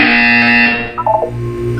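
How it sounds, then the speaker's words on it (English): A loud, sustained electronic buzzer tone in Portal 2 with a harsh, distorted edge, cutting off after about a second, then a short warbling synthetic blip and a low hum. "You will hear a buzzer. When you hear the buzzer, look up at the ceiling."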